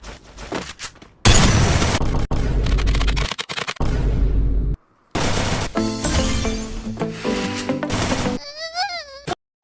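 Gunfire from the Free Fire video game, loud bursts and rapid crackling shots interrupted by brief silences, mixed with game music and effects, with a warbling tone near the end.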